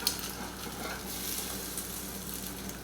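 Omelette egg mixture cooking in a frying pan, a soft continuous sizzle with occasional stirring scrapes as the liquid is moved, fairly close and with no talking.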